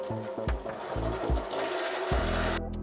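A chamfer bit cuts into a drilled hole in CK45 steel, giving a close, buzzing mechanical whir with a rapid chatter that comes in several short bursts separated by brief pauses.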